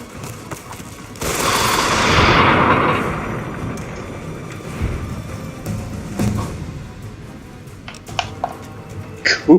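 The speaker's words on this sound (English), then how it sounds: "I gotta get better with machine guns." Machine gun fire in Fallout: New Vegas, a loud sustained burst of rapid shots lasting a few seconds, followed by quieter scattered game sounds and distant bangs.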